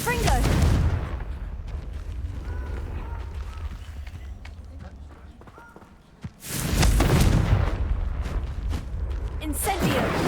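Blasting spell effects in the PS5 game Hogwarts Legacy: loud bursts at the start and again near the middle, each a booming, crackling blast over a rumbling game soundscape, with a voice speaking.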